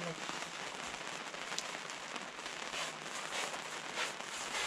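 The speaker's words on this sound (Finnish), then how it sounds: "Me saatiin kevyt vesisade." Light rain patters steadily at a caravan camp on the Kalajoki sand dunes, with soft, dense crackling drops and faint voices in the background.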